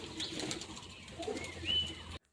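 Pigeons take off and fly at dawn, wings flapping in a soft, continuous flutter at moderate distance with faint background noise, lasting about two seconds before cutting off.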